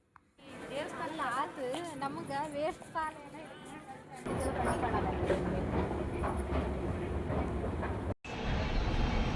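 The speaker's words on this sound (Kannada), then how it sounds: "ಮೆಟ್ರೋ ಬಂತು." A metro train rumbles loudly and steadily, rattling on the tracks, with people talking over it at first before the noise swells and fills everything.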